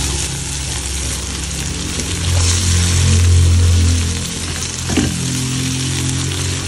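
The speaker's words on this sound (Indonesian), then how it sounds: "Lanjut goreng teri" Anchovies frying in a pan give a loud, steady sizzle that lasts throughout, with a brief clatter of stirring partway through and no voices.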